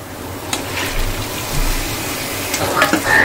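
Meat and shevla (dragon stalk yam) stalks dropped into hot oil, a loud, close, steady sizzle with occasional stirring clatter and spits building toward the end.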